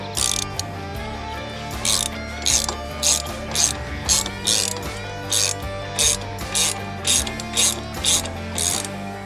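Ratchet wrench clicking in repeated back-and-forth strokes while retorquing loose motorcycle handlebars, about a dozen loud, evenly spaced bursts with no talk.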